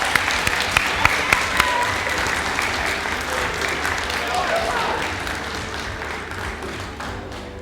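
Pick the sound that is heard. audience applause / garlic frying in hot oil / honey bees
audience applause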